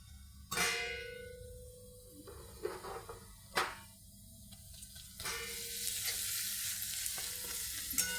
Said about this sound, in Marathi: आलं लसणाचा वास कसा येतो ना, तो वास असा सुटेपर्यंत आपल्याला हे परतून घ्यायचं